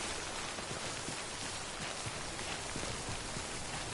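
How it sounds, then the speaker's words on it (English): Rain in Death Stranding falls as a steady, dense hiss of drops pattering on surfaces, with scattered faint taps, even and unbroken for the whole stretch. "Truck's getting damaged by the rain"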